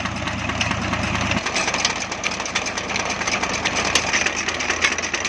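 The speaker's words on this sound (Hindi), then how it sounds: "तो पानी निकालने के लिए ट्रैक्टर का इस्तेमाल भी किया जाता है।" A tractor engine runs steadily in a village in Punjab, pumping water; the close, loud, chugging idle carries on throughout, with a change in tone after the first second or so.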